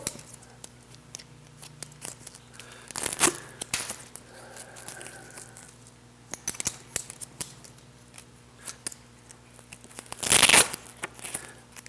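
A trekking pole shelter with a third-leg conversion being folded up, its fabric giving a few short, close crinkling and rustling bursts separated by quiet handling noise.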